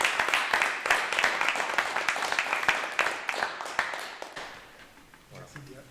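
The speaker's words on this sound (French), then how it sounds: "je pense que ça mérite comme des applaudissements" Scattered applause at a municipal council meeting, moderately quiet and thinning out over several seconds until it fades near the end.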